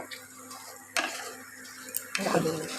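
Turmeric, chili powder and salt being stirred together for mango pickle, heard as soft close scraping and tapping of a spoon against a bowl, with a few sharper knocks and a brief louder rustle near the end.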